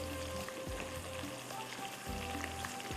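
A mixture for lauki and khoya halwa browns in a pan with a steady, close sizzle and crackle that continues without a break throughout.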